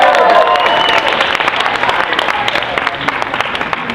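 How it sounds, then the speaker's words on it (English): A convention panel audience at Florida Supercon applauds loudly and densely, a close, sustained wash of clapping that eases slightly toward the end. "Give a round of applause for Pedro, everybody."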